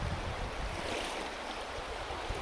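Steady broadband rush of river water flowing around someone wading across a river in spring, loud and close, continuous with a little wind noise and no talk.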